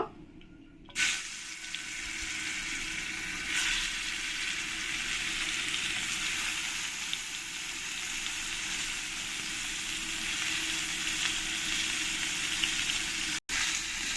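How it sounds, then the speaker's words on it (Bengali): Pomfret fish fry in hot oil, a sudden onset of loud, dense crackling sizzle that holds steady and close for over ten seconds, with one brief cut near the end. "আর পরের মাছগুলো আমি একই রকম করে ভেজে নেব।"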